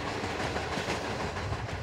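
A train runs on rails through the Inner Mongolia region of China, giving a steady, dense rumble of rolling wheels and carriage noise that stays even and continuous throughout, with no voices.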